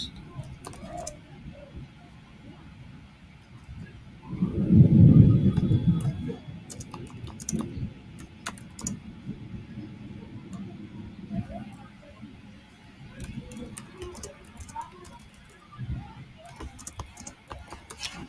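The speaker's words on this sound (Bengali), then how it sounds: "আমি চ্যাট জিপিটিতে যাই, এখানে যদি আমি তাকে লিখি" A computer keyboard is typed on into ChatGPT, with soft irregular key clicks going on throughout at low volume, a brief louder rumble near the start, and no clear talk.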